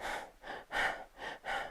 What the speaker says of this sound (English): we're probably breathing in a very jagged, quick, small breath, almost like a hyperventilation breath